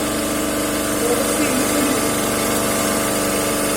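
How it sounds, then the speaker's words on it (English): A DC compound motor runs steadily while driving a three-phase alternator on a test bench, giving a loud, continuous machine hum with an even mechanical drone and no break. "So now the DC compound motor has started."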